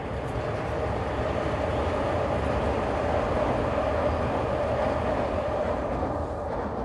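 Train passing close by with a loud, steady rumble and rushing roar that fills the whole stretch without a break, no voices over it.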